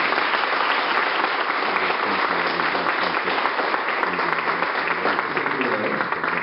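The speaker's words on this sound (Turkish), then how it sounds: "kendilerine şöyle yürekten bir alkış alabilir miyiz?" Wedding guests at a civil marriage ceremony applaud warmly and steadily for the couple, a dense, continuous wash of clapping from a sizable crowd, with some voices murmuring underneath.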